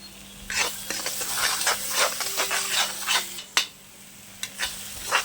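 Onions and tomatoes sauté in a pan with rock salt, giving a steady sizzle and hiss while a utensil stirs and scrapes in an irregular rhythm, with a low hum underneath.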